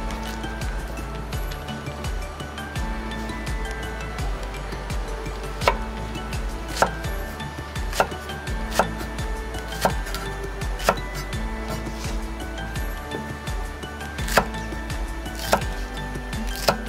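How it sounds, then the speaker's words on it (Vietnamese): Green onions chopped into small pieces with a knife on a cutting board, a steady run of knocks with a few louder thuks, close and clear with no talk. "giờ mình cũng sẽ cắt hành y chang như vậy,"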